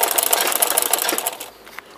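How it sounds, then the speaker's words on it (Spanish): An electric straight-stitch sewing machine runs in a fast, steady stitching rattle, loud and close, then slows and stops near the end. "me vine a terminar en esta máquina. Que es mi fuerte, la de costura recta."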